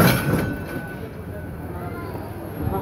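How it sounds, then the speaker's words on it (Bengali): An express train is backed up along line 1 inside a rail station, giving a steady low rumble and rolling noise, with a voice talking over it. "এই যে ট্রেনটিকে আবার ব্রেকে পিছনে নিয়ে আসছে।"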